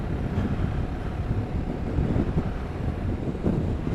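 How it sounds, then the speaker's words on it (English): Strong wind buffets the microphone on Great Yarmouth seafront, a steady broadband roar with gusty swells throughout and no voices. "That wind's not died down."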